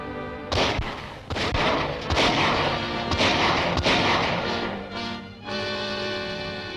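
Gunfire in a 1939 serial shootout as men fire on a landing party coming ashore, a close, loud volley of sharp shots and thumps over several seconds with no talking.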